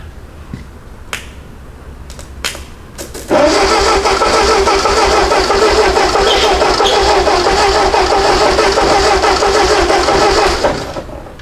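A few sharp clicks, then a Ford 8N tractor with a burnt-out solenoid cranks and catches, running at a loud steady idle for several seconds before dropping off.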